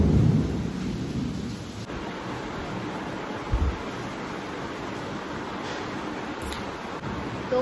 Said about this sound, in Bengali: বাইরে তো প্রচন্ড জোরে বৃষ্টি হচ্ছে, বিদ্যুৎও চমকাচ্ছে।